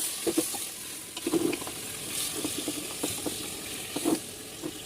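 Meat going into a pan of lightly fried onions for a curry, giving a continuous close sizzle broken by repeated scraping and stirring clatters of a spoon against the pan.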